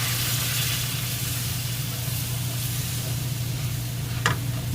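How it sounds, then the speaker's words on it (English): Milk poured into hot sausage gravy in a pan, steady soft sizzle and hiss throughout with a faint stirring scrape near the end. "You want to really stir vigorously when you're putting this milk in."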